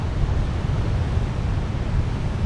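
Big ocean swell surges and breaks against old lava rock along a rugged coastline, a dense continuous roar and wash close by, mixed with wind rumble and no voices.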